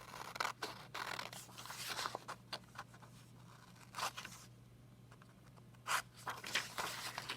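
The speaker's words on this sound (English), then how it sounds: "I'm going to use my scissors" Several short, crisp snipping sounds in quiet surroundings, spaced irregularly with soft paper rustling and a steady low hum underneath.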